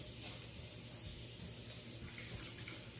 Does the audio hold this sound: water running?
yes